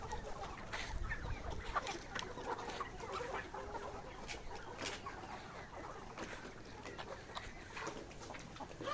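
Kazi Hylan layer hens around 116 days old on a poultry farm, clucking and squawking in a busy overlapping flock, moderately near with constant background farm noise.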